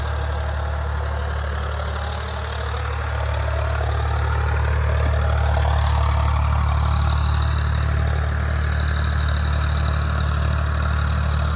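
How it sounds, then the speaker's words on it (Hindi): A 48 HP tractor engine on 45-inch tyres drives a heavy-duty 7-foot rotavator, giving a loud steady low engine drone with a continuous churning rumble from the working machinery, close by and unbroken, with no voices. "अड़तालीस HP वाला ट्रैक्टर है ये"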